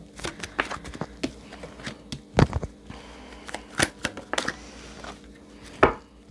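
Tarot cards handled and shuffled close up, a run of dry papery flicks and taps with a few sharper snaps between them, heard alone with no voice.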